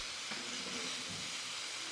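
Food sizzles on a home hibachi grill, a steady dense hiss with faint crackles throughout, continuous and close with no pauses.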